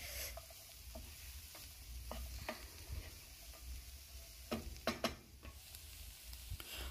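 Food stir-fries in a pan seasoned with chili powder and black and white pepper, with a faint steady sizzle broken by scattered clacks and scrapes of stirring, close and quiet with no talk.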